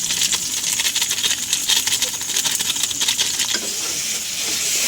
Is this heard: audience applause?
no